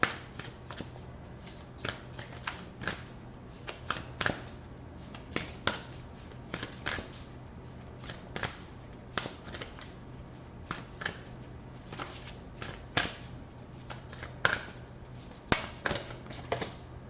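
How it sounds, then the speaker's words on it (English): White light oracle cards being shuffled by hand, giving close, crisp riffles and taps that repeat in irregular bursts over a steady low hum. "I'm going to get one more of these white light oracle"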